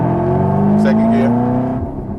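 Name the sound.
Chevrolet Camaro ZL1 engine revving after shifting into second gear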